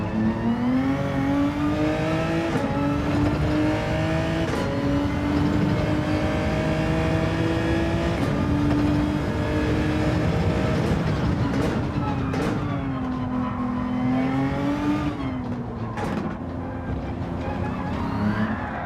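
A brand-new race car in a racing video game drones steadily at high revs, its engine pitch climbing and dropping through gear shifts, loud and continuous, with a voice talking faintly beneath.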